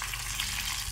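Half-dried cuttlefish frying in hot oil gives a steady, close, dense sizzle with faint crackles throughout and no talking.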